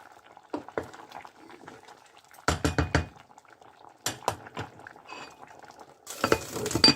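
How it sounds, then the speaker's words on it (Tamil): Courgette sambar bubbles in a pot while a ladle stirs it after the lid comes off, giving close clinks and clatters in bursts over a low simmer. "சாம்பார் கொதிச்சு கொண்டு இருக்குது."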